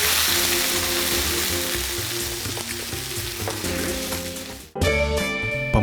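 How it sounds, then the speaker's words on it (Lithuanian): Meat fries in a pan, releasing its juices as steam, with a strong, steady sizzle that cuts off abruptly near the end and then resumes. "ir mėsa kepa."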